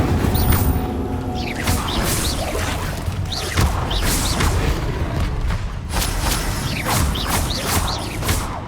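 Fire spell cast in the video game Hogwarts Legacy, a loud continuous roaring whoosh with repeated crackling bursts and impacts layered over dense game ambience, no speech.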